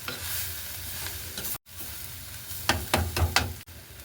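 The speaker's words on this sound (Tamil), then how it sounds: "ஒருக்கா எல்லாத்தையும் சேர்த்து வடிவாக கிளறி விடுவோம்" Onions sizzling in a frying pan while a spoon stirs them, a steady close frying hiss broken by a brief cutoff and several scraping, knocking stir strokes near the end.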